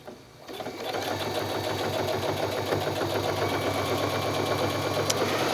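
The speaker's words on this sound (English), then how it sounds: "So I'm just going to sew with that ridge right up next to that seam line," A sewing machine stitches a seam on a neoprene jacket, starting up after a brief pause and then running in a fast, steady, close mechanical whir with a rapid needle rhythm throughout.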